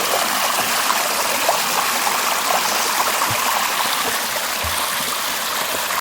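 A small waterfall and stream beside a forest hiking trail in Gunung Tampin reserve, steady broadband rushing and trickling water, close and continuous throughout with no voices.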